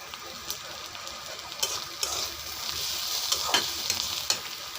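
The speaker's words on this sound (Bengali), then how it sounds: "এগুলো ভাজা হয়ে গেছে" Turmeric, chili powder, coriander powder and salt fry with dried kakchi fish in a pan: a soft constant sizzle broken by repeated sharp scraping strokes of a spatula stirring.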